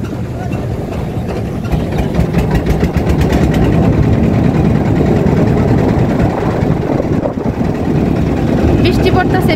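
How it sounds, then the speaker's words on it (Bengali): A trawler boat's engine idles and then rises into a steady, loud, low rumble as the boat pulls away. The drone stays close and continuous throughout. "এখন ট্রলারে আছি, ট্রলার ছাড়তেছে।"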